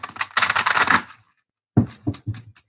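A quick riffle of tarot cards, a short papery burst, followed after a pause by a few soft taps as the deck is squared.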